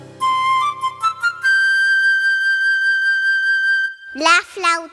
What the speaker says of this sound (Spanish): es una flauta